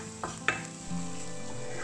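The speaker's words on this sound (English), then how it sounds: "Now, add the chopped ginger and garlic and sauté until it blends well with the mix." Chopped ginger and garlic sizzle in a hot pan with an onion mix, under a steady frying hiss broken by a couple of clicks of a spoon stirring against the pan.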